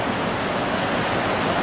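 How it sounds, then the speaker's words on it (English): Strong rapids on the Niagara River in Canada roar as a steady, dense wash of rushing water, loud and continuous with some wind buffeting, no voices. "Because the rapids are kind of really strong."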